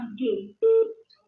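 Telephone line tones on a call during a radio interview, a couple of short electronic beeps with steady pitch, clear and close, separated by brief silences.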